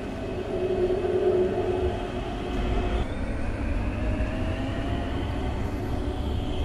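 Train in a Roblox airport transit game pulling out of a station, a steady loud rumble of wheels and motor with a faint squeal as it leaves, with no voices over it.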